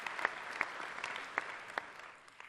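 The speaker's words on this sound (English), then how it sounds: "Can we give them a round of applause?" Audience at a Queensland summit gives a brief round of applause: a dense patter of clapping hands with a few sharper claps standing out, steady for a couple of seconds then tapering off, heard from within the room without talking.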